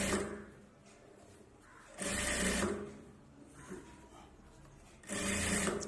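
A sewing machine stitches piping onto a knit dress for a two-year-old, running in two short bursts of rapid, dense mechanical chatter. Quieter pauses separate the bursts, and it sounds close and fairly soft overall.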